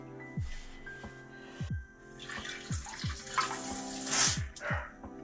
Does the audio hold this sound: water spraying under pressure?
yes